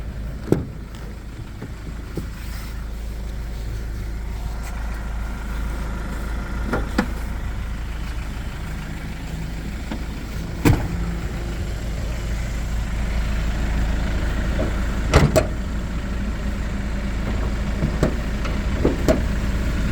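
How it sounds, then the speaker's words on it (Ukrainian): A 2020 Iveco Daily Maxi diesel van engine idles steadily with a low, constant rumble throughout, broken by a few faint clicks and knocks nearby. "Заведений двигун, чисто працює, ніяких нарікань по двигуну немає"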